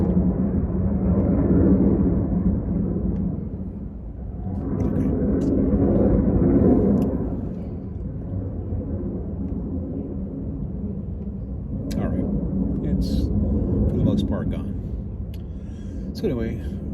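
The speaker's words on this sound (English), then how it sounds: "Sorry about the airplane." An airplane passes overhead as a deep, broad rumble that swells, fades, then rises again over several seconds, with someone talking steadily over it.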